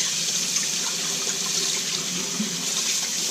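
Steady hiss of tap water running through the small outlet of a dishwasher's secondary filter, continuous and close, with no talking.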